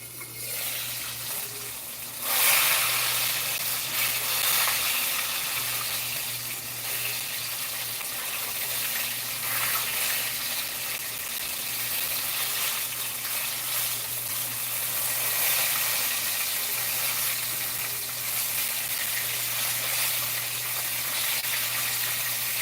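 French fries bubble steadily in a deep fryer of hot oil with a perforated basket, a continuous broadband sizzling hiss that holds fairly even throughout, with a brief louder surge early on.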